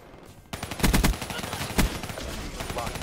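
Gunfire in the shooter Call of Duty: Black Ops III: after a quiet start, loud rapid bursts of shots crack close by, then settle into steadier firing with a sharp peak partway through.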